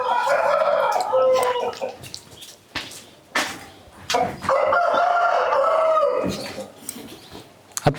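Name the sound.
chickens and rooster crowing on a native poultry farm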